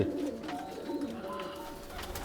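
Pigeons on a rooftop coo steadily and close, a soft rolling murmur that continues without a break.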